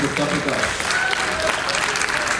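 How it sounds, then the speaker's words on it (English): An audience at a junior college graduation day applauds a class teacher with loud, sustained clapping, and voices carry through it. "can we give a huge round of applause to the best class teacher ever?"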